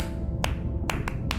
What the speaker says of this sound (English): Sperm whales make clicks in sort of rhythmic patterns that we call codas.